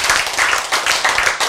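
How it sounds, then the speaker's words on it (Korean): A church congregation claps loudly during a sermon in sustained rhythmic bursts for about a second and a half, close and dense, with no talking over it. "박수 크게 치세요."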